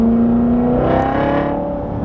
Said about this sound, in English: listen to the rev match